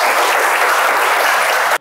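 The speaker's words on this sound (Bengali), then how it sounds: "ওদের জন্য জোরে একটা হাততালি হবে" Dense, loud applause from a school audience for three prize winners, steady and continuous before cutting off abruptly.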